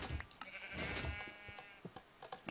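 Sheep bleating in a video game, a drawn-out wavering bleat in the middle with shorter blips and clicks of game sound around it, fairly close and clear with no talk over it.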